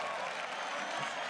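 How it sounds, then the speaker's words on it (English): Loud, steady applause and cheering from a large crowd at an esports event, a dense continuous wash of clapping and voices. "The crowd cheers for Peke."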